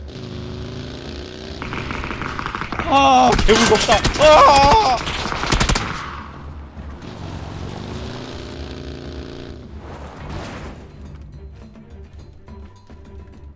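A burst of loud rapid gunfire crackles in the middle of a PUBG (Battlegrounds) match, then quieter shots and rumbling follow, with a voice briefly reacting.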